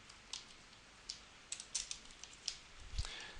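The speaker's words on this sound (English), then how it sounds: "I better type that in for you as well." Keys clatter on a computer keyboard in short irregular bursts of quiet clicks, close but soft, with brief pauses between groups of keystrokes and a slightly heavier tap near the end.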